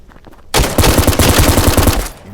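An UZI submachine gun fired in a video game: after a brief quiet start, a loud, rapid sustained burst of automatic fire runs to the end, close and dense.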